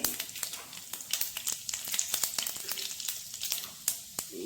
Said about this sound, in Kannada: ಸಾಸಿವೆ ಚಟಪಟ ಅಂತ ಇದೆ.